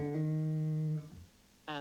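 A guitar string sounds a sustained tone, then a second-finger hammer-on lifts the pitch before the note fades; after a brief pause another note rings out, all played alone without talk.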